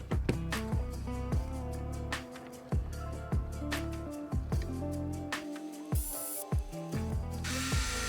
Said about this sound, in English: we're just going to be unscrewing these screws, so we will be able to add the battery tray in there